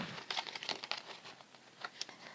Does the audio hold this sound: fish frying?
no